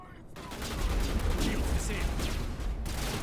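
Video game gunfire crackles as a dense, continuous burst of rapid shots and blasts, fairly faint and steady after a brief quiet start.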